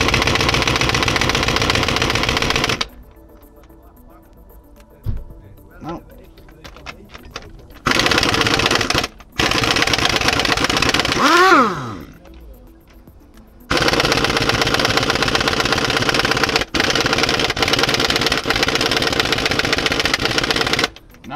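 Pneumatic air impact gun hammering on the crankshaft pulley bolt of a Ford Mondeo Mk3: loud, close rattling bursts of about three seconds each, with a few shorter bursts between them and a brief whine of rising pitch in one quiet gap.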